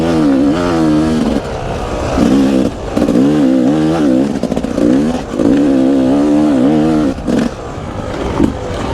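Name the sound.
Yamaha YZ250 dirt bike engine revving after rebuild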